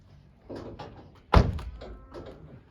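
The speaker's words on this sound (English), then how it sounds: "Close your door." A car door shuts with a single solid thunk partway through, close by, after a stretch of quiet background talk and shuffling.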